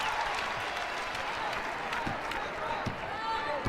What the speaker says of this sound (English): She'll take a seat and get some applause from these Lady Vol fans.